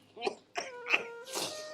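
An old man gives several rough, voiced coughs in quick succession, three short ones and then a longer, breathier hack, fairly close and otherwise quiet.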